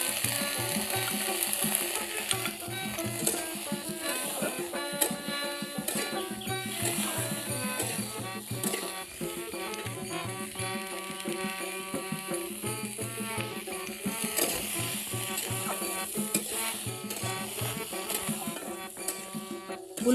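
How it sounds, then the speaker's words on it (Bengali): Cauliflower pieces seasoned with salt and turmeric frying in hot oil in a pan, giving a continuous crackling sizzle with scattered pops that holds steady for about twenty seconds, and no one talks. "ফুলকপিগুলো আমি 4 থেকে 5 মিনিটের মতো ভেজে নেব।"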